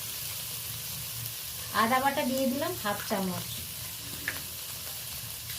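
Onion, tomato and green chilli fry in oil in a pan with a spoonful of ginger paste, a steady close sizzle running throughout beneath a speaking voice.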